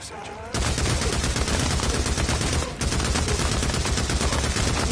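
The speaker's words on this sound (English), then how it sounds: "He ain't so fast when he's getting shot the fuck up." Dense, sustained automatic gunfire in the video game Days Gone, loud and continuous with a brief dip midway before the barrage resumes at full intensity.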